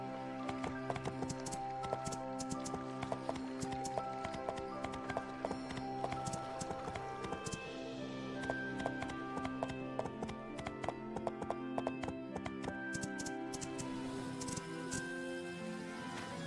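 Steady clip-clop of horse hooves trotting along for a long stretch in My Time At Portia, backed by a droning musical score, no voices.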